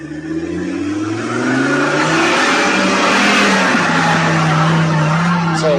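A rally car on its second lap, engine revving hard and rising in pitch as it nears and passes close by, loud with a broad roar of tyres on the surface.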